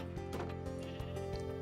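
Sheep bleating in the Minecraft video game on a simple sheep farm, a few short nasal bleats close by over a soft steady background hum.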